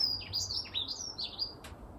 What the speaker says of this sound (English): Isn't that a bird?